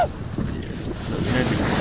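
Heavy ocean waves pounding a cruise ship at sea on its way to Ireland, a loud, continuous roar of surf and wind buffeting with no clear breaks.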